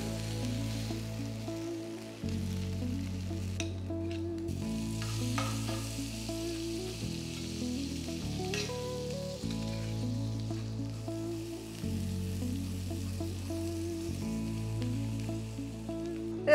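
A paneer cheese wrap fries in a pan, a steady close crackling sizzle that runs without pause, with a low musical background droning in regular stepped patterns beneath it.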